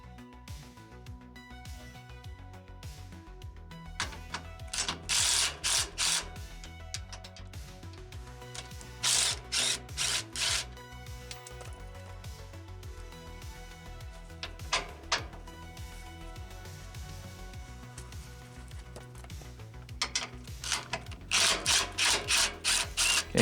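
Wrench work removing bolts from a van's sway bar, with quiet intermittent ratcheting and metallic clicks in short bursts separated by pauses, faint and close.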